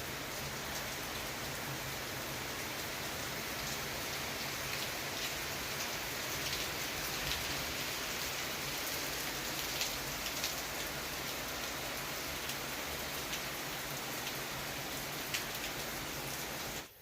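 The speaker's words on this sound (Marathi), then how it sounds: "हवा पण सुटली आणि पाऊस पण जोरात चालू" Heavy rain pours steadily onto surfaces in a windy storm, a dense, even hiss of drops that holds at the same loudness throughout, close and continuous, with no voices.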